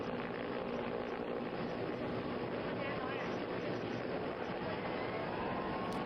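An Indian Air Force rescue helicopter drones steadily and loudly, its dense rotor and engine roar filling the whole stretch without a break.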